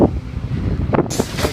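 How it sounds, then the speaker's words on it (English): Wind gusting at a wet, stormy off-road rally event, a broad rushing roar with microphone buffeting that swells and dips over a second and a half, loud and close with no voices. "It's very wet and windy, as you can see."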